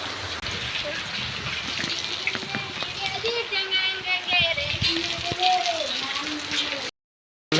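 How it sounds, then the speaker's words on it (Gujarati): Heavy rain pours down in a steady, dense hiss of water that continues throughout, with a person talking over it before the sound cuts off abruptly near the end. "વરસાદ બાકી જોરદાર આવ્યો હો"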